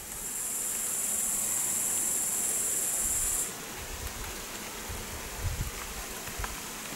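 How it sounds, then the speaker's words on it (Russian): In a village on a summer day, an insect, likely a grasshopper, gives a steady, high-pitched chirring that cuts off after a few seconds, leaving faint outdoor ambience with occasional soft low thumps. "Какой-нибудь стрекочет кузнечик или еще какое-нибудь животное насекомое."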